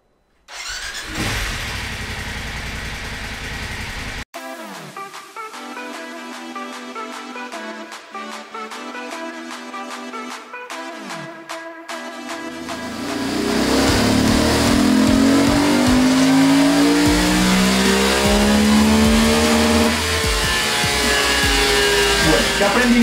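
A BMW F850GS motorcycle engine starts up and idles with a mechanical ticking during a test ride, then revs loud and hard in repeated rising bursts through the second half, close to the microphone.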